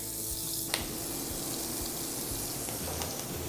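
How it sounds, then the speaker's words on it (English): Food sizzles steadily in hot oil in a skillet in a restaurant kitchen, a continuous close hiss with a brief clatter near the start. "we're gonna let those guys sizzle up for a couple of minutes"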